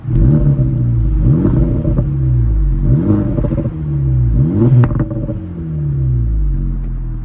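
A 2024 Acura Integra Type S engine revs repeatedly in loud, rising surges, several climbs in pitch that drop back and build again, with steady engine rumble throughout and no talking.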